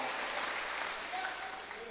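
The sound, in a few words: audience applause in church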